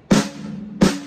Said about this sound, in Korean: 스틱을 꽉 잡는 상태에서 프레스 롤을 하게 되면 이건 거의 불가능해요